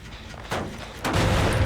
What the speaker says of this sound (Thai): มีการระเบิดอะไรเกิดขึ้นตรงนั้น